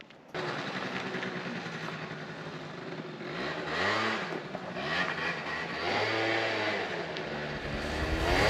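A Yamaha Zuma YW50FD scooter revs hard while being ridden for wheelies, its small engine buzzing loud and near, rising and falling in pitch through several throttle surges, with wind noise over it.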